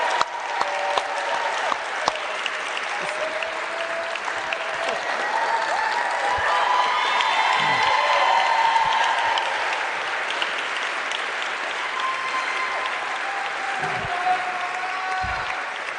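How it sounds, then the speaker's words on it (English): A town hall audience gives Governors Ron DeSantis and Sarah Sanders a long, steady round of applause. The clapping is thick and continuous and swells slightly midway, with scattered cheers and faint voices mixed in. "Let's give them a round of applause."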